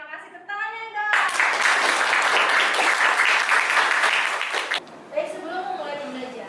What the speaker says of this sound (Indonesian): Oke, terima kasih, tepuk tangannya dong.